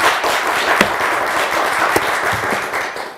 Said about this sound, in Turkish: Bize bir alkış daha verir misiniz ricasa?